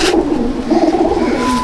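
Mastan breed pigeons in a loft in Chandannagar, Hooghly, cooing in low, throaty, rolling calls that overlap continuously, close by and fairly loud with no talk.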